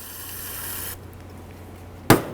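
Parts cleaner is sprayed from a can into a front brake caliper bracket on a 2009-2020 Dodge Journey. A close, bright hiss lasts about a second, then comes a quiet pause and one sharp metallic clunk.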